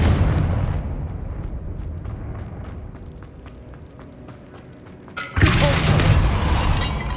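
Confringo fire spell explosion in Hogwarts Legacy: a rumbling game ambience with faint ticks, then a sudden loud burst around the five-second mark that carries on as a broad, roaring blast.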